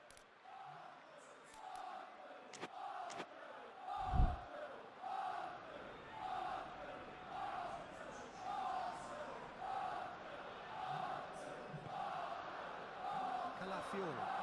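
Stadium crowd in the PES 2021 football video game, a steady rhythmic chanting roar from the stands with a thump partway through, continuing throughout under the match ambience.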